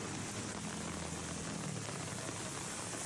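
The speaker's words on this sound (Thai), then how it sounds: "ฝนตกน้ำท่วม ตอนนี้นะครับ" Heavy, steady rain pours during flooding in Satun province, Thailand, a dense continuous hiss of drops with no breaks, loud and even throughout, with no talking.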